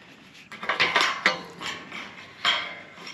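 Snips cutting mobile home trailer skirting produce a handful of sharp, crisp metallic crunches up close, irregularly spaced over a few seconds with quiet gaps between them.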